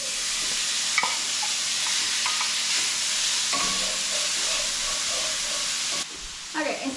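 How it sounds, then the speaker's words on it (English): Bacon sizzling and crackling in a hot pan, a steady close hiss with a few clinks of a utensil stirring. "I'm gonna go ahead and get the bacon frying up."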